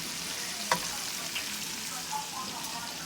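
Shrimp sizzling in a hot pan, a continuous even crackle with a few small pops and a light utensil tap, close and moderately loud.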